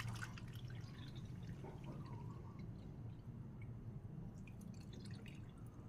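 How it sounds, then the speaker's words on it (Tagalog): Water is poured into glutinous rice flour and all-purpose flour in a bowl, a faint close trickle with small drips over a quiet kitchen background. "Dinalagyan po natin ng tubig."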